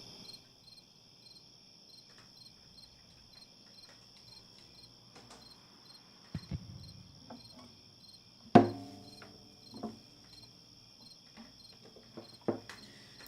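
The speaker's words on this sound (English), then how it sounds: "Loud crickets." Loud crickets chirp in a steady, continuous high-pitched trill, with a few scattered knocks and taps breaking in partway through.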